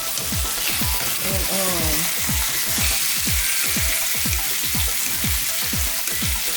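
Shrimp frying in olive oil in a pan, a steady loud sizzle with a dense crackling hiss throughout, while a voice speaks briefly in the background.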